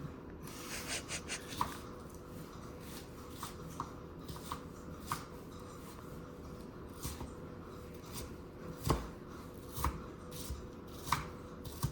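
Knife chopping an onion on a cutting board, irregular sharp taps spread over several seconds, sparse and moderately close, with no talking.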